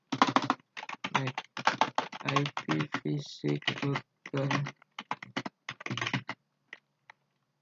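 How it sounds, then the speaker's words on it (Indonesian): Router configuration commands being keyed into a computer keyboard for a Packet Tracer exercise: dense bursts of rapid keystrokes with short gaps, close, mixed with a person talking throughout. "Lalu kita ketikkan IPv6 router area 0, lalu kita ketikkan IPv6"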